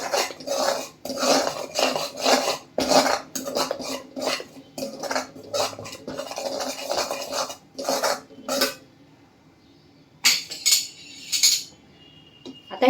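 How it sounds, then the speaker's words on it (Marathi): Cumin and coriander powder being sautéed with besan in oil, heard as rhythmic rasping scrapes of a utensil against the pan, close and fairly loud, pausing for a few seconds near the end. "सगळे छान तेलामध्ये परतून घ्यायचे बेसनासोबत."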